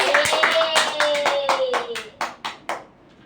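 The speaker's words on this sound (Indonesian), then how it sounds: "tepuk tangan untuk Cici" A small classroom group claps for a student named Cici with several hands patting together at first, then thins to a few separate claps that fade out near the end.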